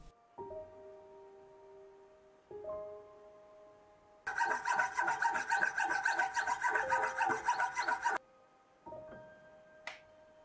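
Metal files rasp against a watch main plate, giving a steady run of rapid scraping strokes for about four seconds. Long ringing metallic tones sound before and after the filing, close and clear with no speech.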